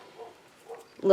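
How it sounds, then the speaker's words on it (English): A neighbor's dog barks outside, a short muffled yelp or two at moderate distance, ending in one louder bark. "Sorry about the dog barking. My neighbor's dog is playing outside and"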